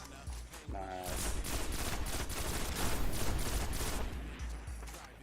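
Rapid bursts of automatic weapon fire from the Destiny video game rattle continuously at moderate level, with a short mechanical whir near the start and faint background game sounds.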